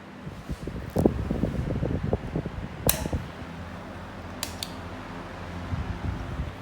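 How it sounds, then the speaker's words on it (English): Two old 12-inch desk fans, one American and one English, run quietly, giving a low steady hum and faint whir with soft creaks and a few clicks, while rustling handling noise dominates the first few seconds. "They're quite quiet fans."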